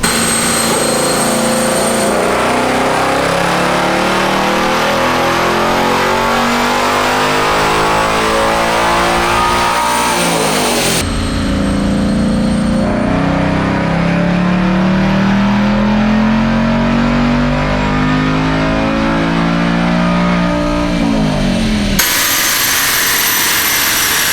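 A Ford Mustang S650 Dark Horse with a six-speed manual revs hard in fifth gear on a dyno, the engine roar climbing steadily in pitch through three loud sustained pulls with brief breaks between them, no voices.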